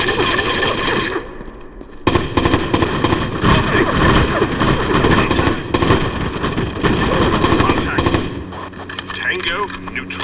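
Rapid bursts of automatic gunfire from an Xbox tactical shooter fill the scene almost without pause, loud and close, with heavy rattling volleys and booming impacts that briefly drop out before resuming.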